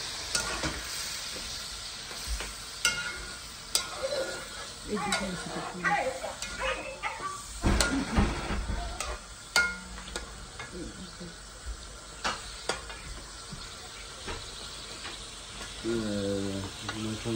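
Raw plantain and fish frying in a pan, a steady close sizzle with scraping stirs and utensil knocks, while people talk over it and a dog whimpers briefly near the end.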